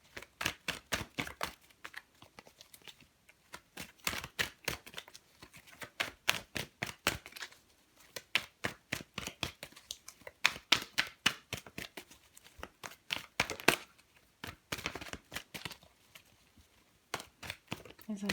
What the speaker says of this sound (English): if you get bored of my shuffling, just fast forward